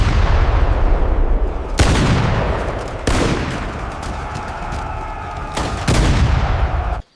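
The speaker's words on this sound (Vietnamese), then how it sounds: "hỏa pháo, khai hỏa." Cannons fire in a battle, each blast loud and abrupt with a long rumbling decay, four heavy booms spaced a second or two apart over continuous roaring, crackling battle noise.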